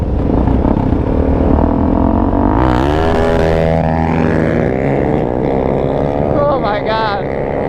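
A quad bike launches and accelerates in a lot, its engine note rising steadily and loud up close, with people shouting and talking over it.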